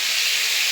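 Potatoes and eggplant fry in salted oil under a lid, a steady, loud broadband sizzle and hiss with no talking.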